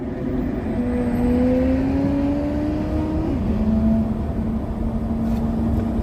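A car drives along the road with a steady engine drone and a rising whir that shifts in pitch as it passes, loud and close, with no one talking.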